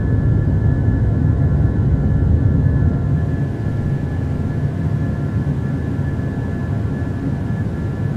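Steady engine drone of a PMDG 737-800 airliner in Microsoft Flight Simulator, cruising after departing Miami, a constant broadband roar with a faint high whine and no talk.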